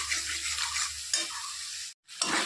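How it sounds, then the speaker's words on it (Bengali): Spice paste frying with a splash of water for aloo begun rasa, a steady crackling sizzle with a few stirring scrapes, breaking off into near-silence for a moment before the sizzle resumes. "মশলাটা ভালো করে কষানোর জন্য একটু জল দিয়ে দিচ্ছি। তো মশলাটাকে ভালো করে একটু ভেজে নেব।"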